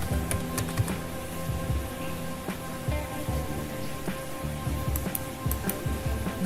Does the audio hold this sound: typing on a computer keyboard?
yes